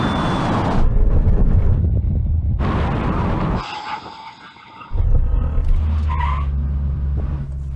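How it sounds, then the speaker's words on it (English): Performance SUVs, including a Porsche Cayenne Turbo, Lamborghini Urus, Jeep Trackhawk, BMW X6 M and Tesla Model X, braking hard from 100 mph: loud wind and road roar with tyre noise, a sudden drop in level, then rumbling again. "Okay, now we have a brake test from 100 miles an hour."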